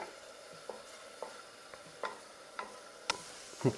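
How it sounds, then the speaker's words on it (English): Garlic frying in a pan for a spaghetti sauce gives a faint, steady sizzle, broken by several sharp taps of a utensil stirring against the pan. "we're going to cook the garlic until it starts to brown and becomes nice and fragrant"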